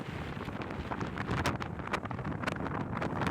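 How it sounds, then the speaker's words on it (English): Strong wind on a mountaintop roars and buffets against the microphone in steady, gusting waves, loud and close, with no talking. "You can hear the wind. It's very windy up there."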